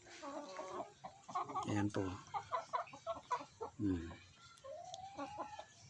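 Chickens cluck and squawk close by in short bursts, and a person speaks briefly among the calls.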